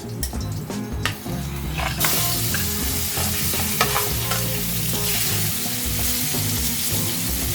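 Hilsa fish frying in hot oil with a loud, steady sizzle that flares up partway through, accompanied by occasional stirring clinks.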